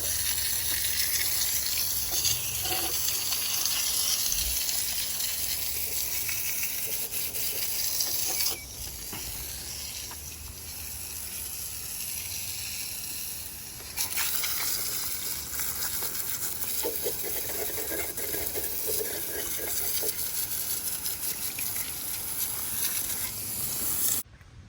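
Water sprays in a loud, steady hiss over a 2005 Ford F150 engine block, with brief dips and shifts in the spray as the stream moves across the metal.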